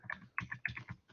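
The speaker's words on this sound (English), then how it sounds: "So I'm typing it in here." Numbers are typed quickly on a computer keyboard: a faint, uneven run of soft clicking keystrokes close by.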